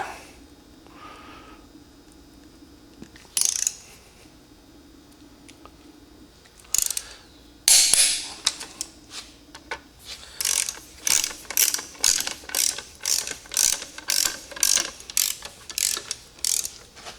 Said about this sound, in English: Torque the studs to 70 foot-pounds, so that'll be good to go.